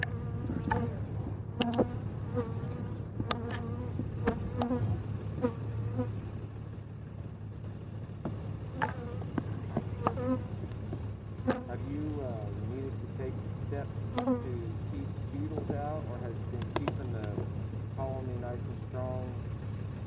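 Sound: honey bees buzzing during pickup

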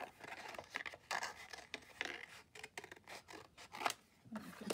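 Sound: scissors cutting craft bags apart

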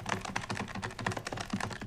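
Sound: typing on a computer keyboard in a movie

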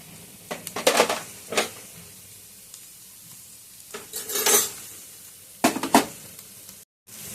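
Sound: adding fried peanuts to samosa filling in a pan

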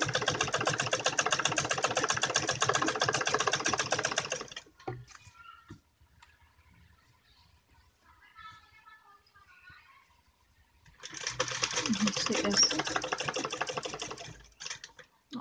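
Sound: sewing machine stitching fabric

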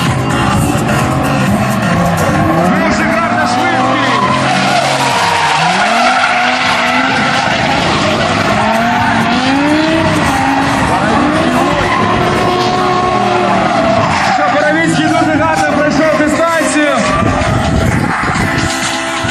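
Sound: drift car skidding with tire squeal

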